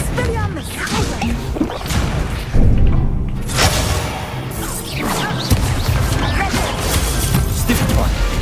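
Spell effects burst out in Hogwarts Legacy, a dense run of whooshes, whip-like swishes, crashes and thuds that keep coming loud and close, with a voice calling out spells between them.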